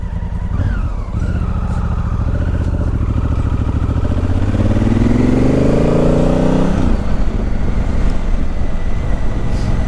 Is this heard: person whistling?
no